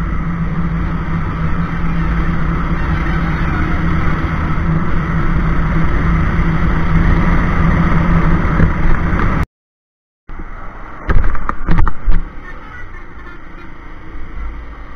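A Bajaj Pulsar 220F motorcycle cruising at a steady 50-60 km/h, its engine and wind rushing in a loud, continuous drone that cuts out briefly before resuming with scattered bumps.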